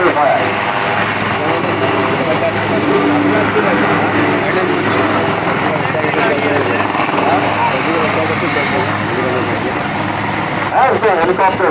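A Chinook helicopter flies at a Vijay Diwas air show, its loud, constant rotor and engine roar filling the scene, with a commentator talking over the noise.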